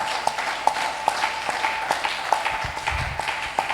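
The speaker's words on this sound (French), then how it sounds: "Si c'est la vérité, acclamez pour le Seigneur" A church congregation breaks into loud, scattered applause, with sharp individual claps repeating steadily over a sustained crowd wash, close and lively throughout.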